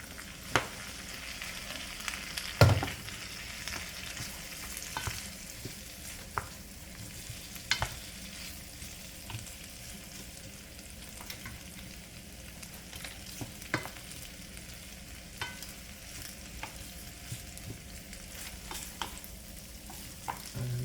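Jerk shrimp rasta pasta is stirred in a hot pan. A soft, steady sizzle runs under occasional scraping and clinking strokes of the utensil against the pan, close and fairly quiet, with a sharper knock near the start.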